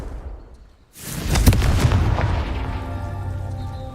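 A Confringo spell explodes in Hogwarts Legacy with a sudden loud blast after a brief quiet moment, followed by a rumbling, crackling tail that slowly fades over several seconds.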